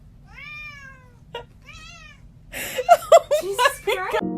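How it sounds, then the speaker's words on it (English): A cat with a toy stuck to its paw gives a few clear meows, then a burst of rapid, overlapping yowls and cries that grows louder toward the end. "This cat was playing with a toy and it got stuck to its paw."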